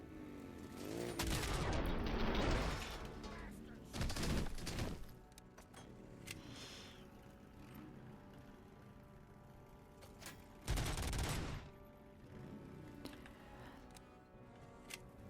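Bursts of gunfire from a weapon in the RoboCop video game come in several loud volleys, a long one early and shorter ones later, separated by quieter stretches of game ambience.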